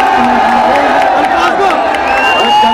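Concert crowd at a show at Galgotias University, Greater Noida, roaring and cheering loudly and continuously, with whoops rising over a dense wall of voices and music.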